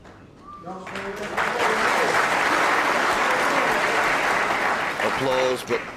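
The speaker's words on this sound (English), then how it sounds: "Applause" Snooker crowd applause at a 2008 World Championship semi-final between Ronnie O'Sullivan and Stephen Hendry, a dense steady clapping that swells and holds for several seconds while a commentator's voice speaks briefly at the start and end.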